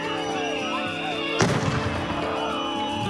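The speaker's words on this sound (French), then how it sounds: "une première arrestation, suivie de tirs de gaz lacrymogène et de grenades de désencerclement" During a street protest in Minneapolis, tear gas launchers and sting-ball grenades fire, with one sharp loud bang cutting through dense crowd noise and a sustained tonal hum and clamor.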